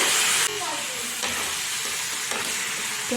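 Pumpkin curry with turmeric and salt sizzles in a pan while a utensil stirs it in a few sweeping scrapes, close and steady, with no voices.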